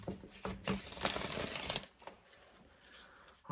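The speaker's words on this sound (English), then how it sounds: "So I'm gonna just give this a shuffle" A deck of tarot cards being shuffled close by, a burst of riffling and flapping card noise for under two seconds, then fading into quieter rustling.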